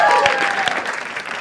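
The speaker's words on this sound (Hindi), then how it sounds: "एक बार जोरदार ताली फॉर अपूर्वा ऑल्सो." Loud, dense audience applause at a live comedy show, a continuous wash of clapping lasting over a second, with a faint voice briefly audible at the start.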